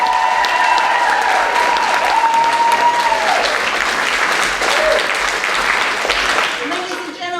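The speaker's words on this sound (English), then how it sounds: "Big round of applause. Paige Moe." A theatre audience at a community stage show claps steadily and loudly for a cast member, with voices faintly audible underneath, and the applause begins to fade toward the end.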